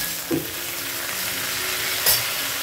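Water lily stems fry in a pan over a high flame, a steady loud sizzle with a couple of short clinks and stirring scrapes.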